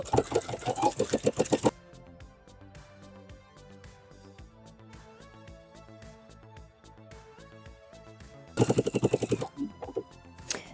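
A sewing machine stitches wide leg pants, its needle hammering in fast, even bursts at the start and end, with a quieter stretch between while other sounds continue underneath.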